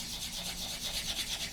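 The buffing side of a sanding stick rubs back and forth over a 1/48 scale X-47B model kit part, giving a close, quiet, rhythmic scratchy swish with several quick strokes.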